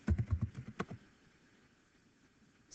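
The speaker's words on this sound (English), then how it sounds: "So you'll start with typing in references" Rapid keystrokes on a computer keyboard while typing in references, a close burst of clicks for about a second before fading into quiet room tone.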